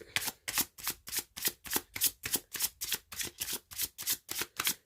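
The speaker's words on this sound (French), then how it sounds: "Alors, je vais tirer 3 cartes." Tarot cards shuffled by hand in a steady rhythm of about fifteen crisp riffles and slaps, close and moderately quiet, with no talking.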